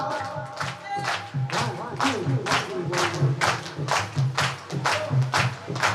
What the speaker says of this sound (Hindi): ताली सुनाओ बाबा को।